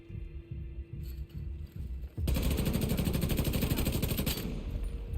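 Gunfire in The Division 2 video game: a rhythmic low thumping gives way to a sustained, dense automatic burst that runs loud and continuous to the end, with no talk.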